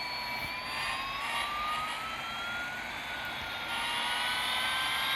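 Lotus Evija electric hypercar racing on a track, a steady high-pitched electric whine with rising tonal sweeps over a broad rushing roar, loud and continuous throughout.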